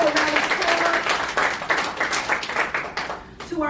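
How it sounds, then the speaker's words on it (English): A small meeting audience claps in a lively burst, with individual hand claps audible in an uneven rhythm that thins out toward the end, as a voice briefly comes in near the close. "Let's give them all a round of applause."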